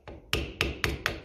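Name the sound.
tapping a Lucas distributor cap clip with a flathead screwdriver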